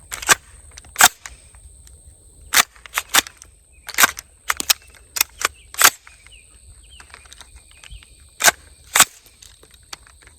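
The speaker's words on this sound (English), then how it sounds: "Now I'll do a function check with live ammunition without shooting it." An AR-15 rifle with a rusty action is cycled by hand without firing, giving sharp metallic clicks and clacks, some single and some in quick pairs, spaced irregularly over quiet outdoor background.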